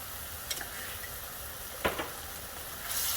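Meat cooks in a little oil in a cast iron skillet with a faint, steady sizzle, broken by a few clinks as a utensil breaks the meat apart.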